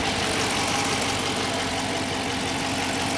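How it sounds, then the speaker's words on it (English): A 2015 Dodge Charger Police Pursuit with a 5.7 HEMI V8 idles steadily close by, a loud, even low rumble with a fast regular pulse and no talking. "this is your engine."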